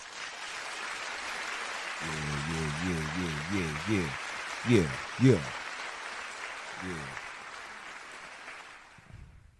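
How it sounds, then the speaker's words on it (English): Steady applause and cheering from a live audience runs throughout, with a voice calling out over it in short bursts and a couple of sharp thumps near the middle. "Round of applause."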